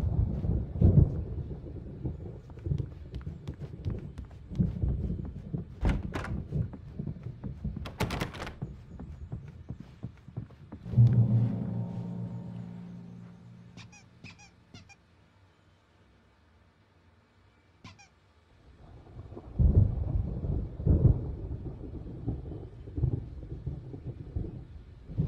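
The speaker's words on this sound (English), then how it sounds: "There's a storm coming. Oh, what a storm." A thunderstorm in the video game Alan Wake Remastered rumbles in long, heavy rolls of thunder. A quieter stretch in the middle carries faint clicks before the rumbling swells again.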